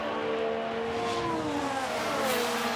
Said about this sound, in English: He'd probably have to change that engine. That doesn't sound nice.